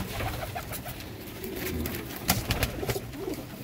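Pigeons sitting low in a loft coo softly and repeatedly, with scattered clicks and rustles growing busier toward the end against a steady background hiss.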